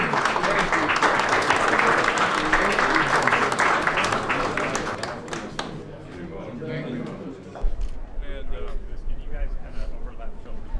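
A capacity crowd at the Norwegian Military Tattoo in Oslo claps loudly and steadily, the dense applause fading after several seconds as a voice talks over the quieter tail.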